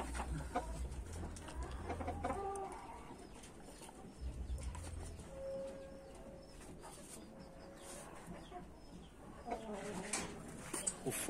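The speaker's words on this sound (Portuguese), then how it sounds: "Aqui as galinhas já empoleiradas." Chickens settled on their roost give soft, scattered clucks and occasional wing flaps at a moderate distance, in a quiet setting with low background rumble.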